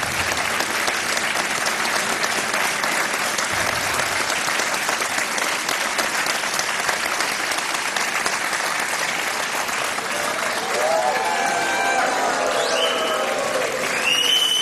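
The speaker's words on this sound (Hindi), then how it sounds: "और तालियां बजती रहनी चाहिए देवी और सज्जनों" Sustained, dense applause from a television quiz show studio audience fills the whole stretch at steady loudness, with a few faint voices and tonal cues rising near the end.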